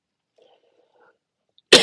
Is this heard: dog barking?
no